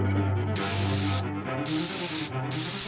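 Aerosol clear coat sprayed onto a car part in three bursts, a loud close hiss with brief pauses between passes.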